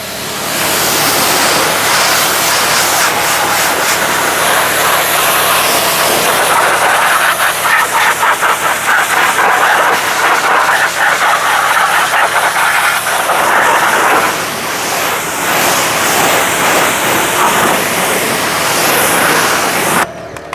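A pressure washer sprays a car tire and wheel, a loud, close, continuous hiss and rush of water that stays roughly even and varies only slightly as the jet moves, then cuts off right at the end.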